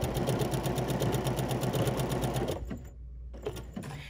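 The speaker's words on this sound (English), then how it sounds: "I am appliquing my heart onto a scrap piece just to show you the applique process" A sewing machine stitches a fabric heart appliqué onto a scrap of fabric, a rapid steady needle chatter running close and loud, then stopping abruptly near the end with a brief pause and a few faint sounds after.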